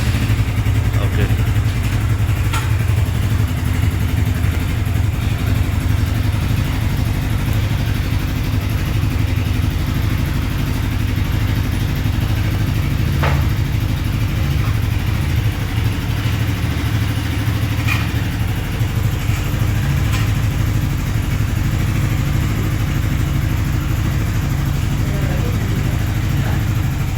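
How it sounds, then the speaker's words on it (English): A freshly built Hero XPulse 230 motorcycle engine idles right after its first start, a loud, steady mid-pitched thrum that runs unbroken throughout with a few faint clicks over it and no talking. "Now Atul's going to start the motorcycle."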